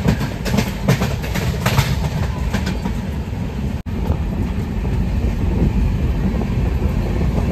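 A Konkan Railway passenger train runs at speed, giving a loud, close, continuous rumble and rattle with rhythmic clickety-clack of wheels, interrupted by a brief dropout.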